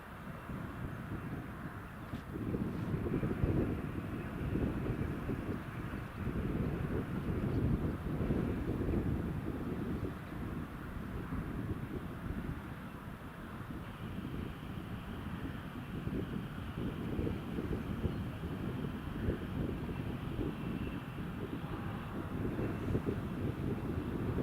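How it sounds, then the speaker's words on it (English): Strong wind buffeting a microphone outdoors at Newcastle Airport, a continuous low rumbling roar that swells and eases over about twenty-four seconds, with no speech. "See that wind blowing the bushes about down over there, it's still fairly strong."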